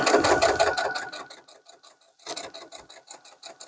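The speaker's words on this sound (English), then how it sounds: "And now I'm going to do my stay stitch." A sewing machine runs a stay stitch around a crazy crumb quilt block, its rapid rhythmic needle chatter close and loud, slowing briefly midway before starting up again.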